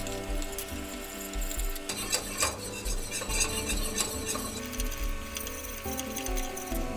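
A utensil stirs wheat flour into warm oil in a pot for bone broth, giving continuous scraping, rasping swirls with occasional clinks against the pan, close and steady throughout.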